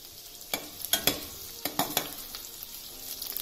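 Square-cut onion sautéing on medium-high flame in a pan for chilli paneer, with a series of sharp spatula scrapes and taps over a faint, steady sizzle, close up and with no talking.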